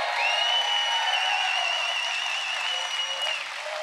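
A crowd at the Great American Beer Festival awards ceremony claps steadily with a high whistle or cheer ringing over the applause, fading slightly at the end.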